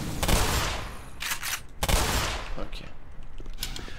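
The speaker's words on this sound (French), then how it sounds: "On passe au shotgun." Loud shotgun blasts in the video game Half-Life Black Mesa, two big booming shots with decaying tails and a few smaller bangs after, while someone speaks French at times.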